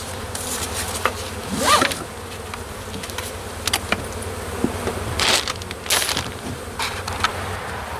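Honeybees buzz steadily during a hive inspection, with individual bees droning close past the ear now and then over a dense hum from the colony.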